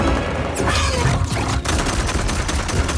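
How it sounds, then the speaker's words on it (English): Dense gunfire volley from a firing line of soldiers in the Mortal Kombat fighting game, a continuous loud barrage of overlapping shots and bursts filling the whole moment. "They're lined up in a firing line, just unloading on these weird demon warriors."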